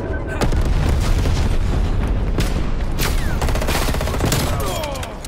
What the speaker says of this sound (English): Napalm strike inbound